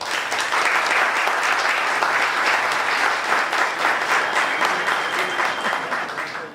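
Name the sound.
audience applause for the committee at a conference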